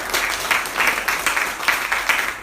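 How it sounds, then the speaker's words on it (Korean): Congregation at a Korean church worship service for an artillery brigade claps in a dense, sustained burst of applause, close and fairly loud throughout. "우리 큰 박수 한번 쳐줄까요?"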